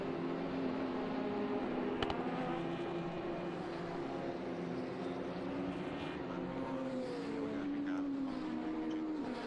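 TCR touring race cars lap the Salzburgring during a TCR Eastern Europe race, engines droning steadily at a distance under a commentator's voice.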